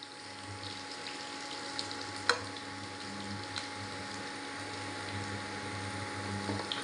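Onions frying in hot oil for a tori (ridge gourd) sabzi, a steady low sizzle with faint crackles and a sharp tick near the middle, no voices.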